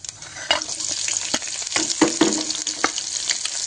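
Green chillies added to hot oil with cumin and mustard seeds sizzle loudly up close while a spoon stirs and scrapes the pan in irregular knocks.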